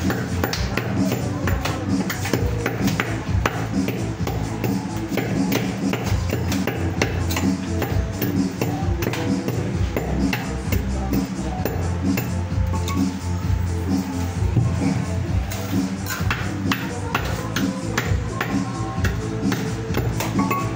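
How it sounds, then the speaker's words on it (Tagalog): Gentle, repeated hammer taps on a hollow concrete block, loosening it during construction work; a steady run of light knocks over dense site noise. "Dahan-dahan lang pukpuk guys, kaya baka mapasag."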